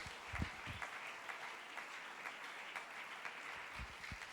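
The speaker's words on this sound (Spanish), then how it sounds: "Fuerte ese aplauso para él, hermanos" A church congregation applauds during a Sunday service, a steady, fairly faint patter of many hands with a few low thumps near the start and end, and no talking.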